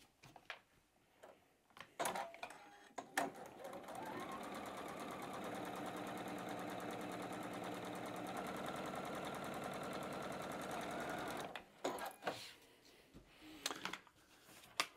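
A sewing machine hums steadily for several seconds, stitching batik fabric triangles together with a quarter-inch seam allowance, framed by clicks and handling noises before and after.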